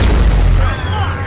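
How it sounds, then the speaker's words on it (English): Heavy booming blasts roll through an animated battle as mutants fight giant Sentinel robots, a loud continuous rumble with bursts and crashes. "There are explosions everywhere as the mutants engage the monstrosities"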